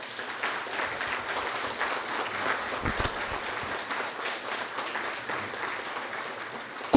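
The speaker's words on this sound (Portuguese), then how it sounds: "Quero pedir a todos vocês uma salva de palmas para ela." An audience at a business fellowship testimony event applauds a woman called forward, with steady, sustained clapping of moderate loudness that carries on throughout with no clear talk over it.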